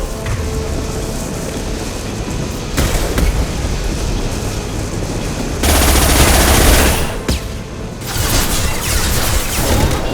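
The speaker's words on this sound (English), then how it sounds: "Firing concussive shot!" A concussive shot blasts in Mass Effect 2, loud and dense, with a heavy burst midway through sustained combat noise and rattling weapon fire.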